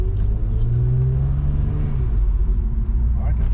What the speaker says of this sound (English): it revs up a little faster